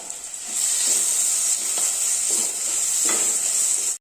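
Chopped onions sauté in a pan with salt and curry leaves, a bright sizzle bursting in after a short pause and running steadily with occasional stirring scrapes before cutting off.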